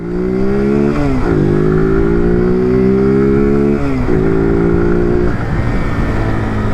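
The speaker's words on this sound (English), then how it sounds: "it's a brand new bike, so it's going through gears very, very nicely, very, very easily" Brand-new Keeway RKS 125 motorcycle pulls hard through its gears, the engine note climbing steadily then dropping at two crisp upshifts before rising again, loud and continuous with no talking.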